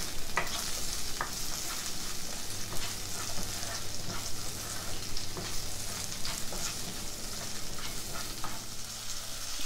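Chopped capsicum being sautéed in a kadai for a mushroom dish, a steady soft sizzle with occasional scraping and stirring clicks of a spatula against the pan, close and continuous with no talking.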